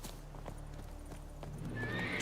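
A horse in The Witcher 3 gallops with quick, faint hoofbeats and then lets out a whinny near the end, all fairly quiet over a low background hum.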